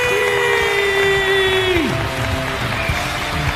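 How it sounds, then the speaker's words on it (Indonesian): An audience claps for Ibu Wuri Priyayati at a gathering, a steady wash of applause with a sustained tone that slides downward midway. "Berikan aplaus yang paling meriah untuk Ibu Wuri Priyayati"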